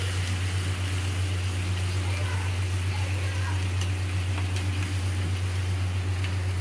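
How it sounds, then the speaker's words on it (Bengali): Water pours steadily into a cooking pot of bottle gourd, a continuous rushing splash over a low hum that lasts several seconds without a break. "দেখুন আমি দিয়ে দিলাম লাউ সহিত জলটা"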